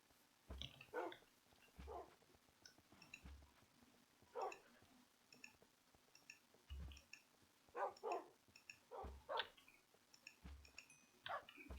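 Dogs in the Minecraft video game bark in short, repeated yips scattered irregularly across the scene, faint and game-like, with quiet ticking clicks between them.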